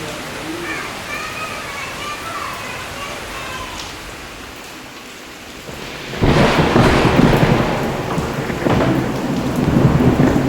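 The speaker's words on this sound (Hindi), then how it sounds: "और तब तक होने लगी थी बारिश।" Steady rain patters in a rural village setting, then a loud rumble of thunder breaks in and the downpour swells into a heavy roar that continues to the end.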